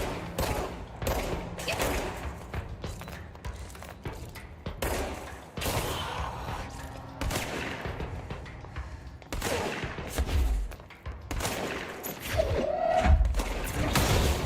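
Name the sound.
gunfire from the video game Control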